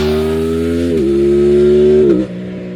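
An Aprilia RS660 Factory motorcycle engine pulls through the gears while being ridden, its steady drone held close and loud, with quick-shifter changes dropping the pitch twice in quick succession before the revs fall away.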